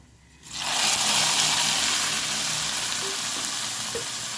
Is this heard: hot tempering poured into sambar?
yes